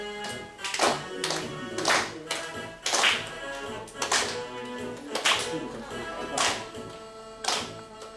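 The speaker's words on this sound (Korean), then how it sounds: "박수 치고요." A group claps hands together in a steady beat, roughly once per second, with voices singing or speaking faintly underneath.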